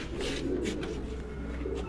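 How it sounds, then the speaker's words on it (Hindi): Pigeons coo softly in low, rolling murmurs on a Punjab rooftop loft where racing birds land in the evening, steady and close under a constant background hum. "आखिरी कबूतरी आके बैठी है जी"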